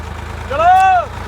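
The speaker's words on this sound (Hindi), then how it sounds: "ट्रैक्टर जी फंस चुका है।" A tractor stuck in the ground runs with a low, steady diesel idle throughout, while a brief voice-like call rises and falls over it in the middle.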